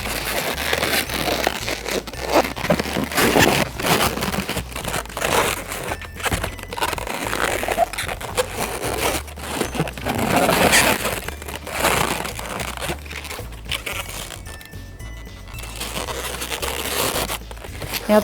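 Latex modelling balloons squeak, rub and creak as they are twisted into a sheep, a continuous close run of rubbery squeals and scrapes with no talk.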